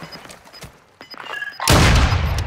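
Gunfire in Warzone 2.0: sparse thuds and clicks at first, then a sudden loud burst of heavy shots and booms about two-thirds through that continues to the end.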